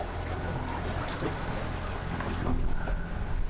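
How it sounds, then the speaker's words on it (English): A sailboat on a close reach under jib alone, in a northeast wind, with a steady rush of water along the hull and wind buffeting the microphone, a continuous loud wash that swells near the end. "So we're sailing on a close reach, just a jib."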